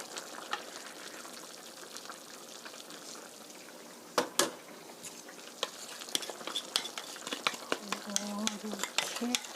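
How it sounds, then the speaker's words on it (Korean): Chicken curry boils in a pot while curry powder is stirred in, soft bubbling under sharp scraping and clinking of a utensil against the pan, with faint voices in the background. "잘 끓고 있는데 카레 가루를 골고루 넣어 주시고요"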